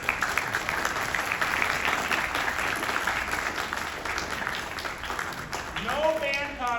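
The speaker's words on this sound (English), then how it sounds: "Students, round of applause for your families," Students applaud their families at a youth wind ensemble fall concert, a steady wash of clapping from the hall that tapers near the end as a voice begins to speak.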